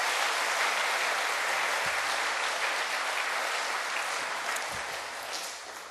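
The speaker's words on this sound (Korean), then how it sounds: "박수로 하나님 앞에 영광을 드립시다" Sustained applause from a church congregation during a service, a dense, steady wash of many hands clapping at once that tapers slightly toward the end.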